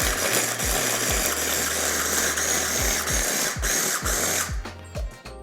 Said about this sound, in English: Back on with our lid and just pulse these up into make our own sort of minced pork.